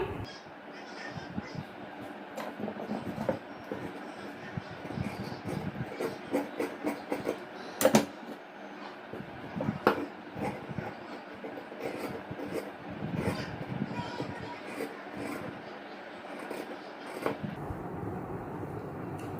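Scissors cut through blouse lining fabric on a tailoring table in a string of crisp, uneven snips and rustles, fairly close and quiet, with faint background noise.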